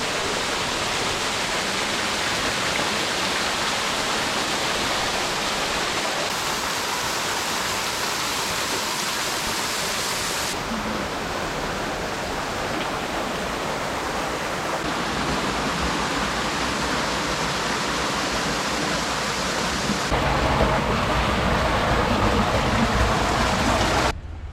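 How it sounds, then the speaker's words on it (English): A hot-water waterfall and a river at an Idaho hot spring pour in a steady, dense roar of rushing water that holds level throughout, with no voices. "There's a waterfall of hot water, and then An amazing river behind us."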